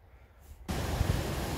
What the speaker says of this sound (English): So this is Adams Creek, flowing off Mount Adams, obviously.